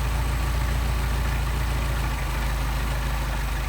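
Mercedes 190SL engine on Solex carburettors idling at very low revs, around 400 to 500 RPM, a steady loud close-up rumble with a slow, even low pulse and no talk.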